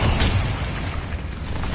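A fiery Incendio spell bursts out in a Harry Potter-style wizard video game, a loud continuous roaring rumble with a deep low thump at the start that carries steadily to the end, no voices.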